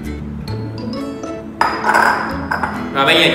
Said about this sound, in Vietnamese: Rồi bây giờ chúng ta sẽ tiếp tục khuấy đều lên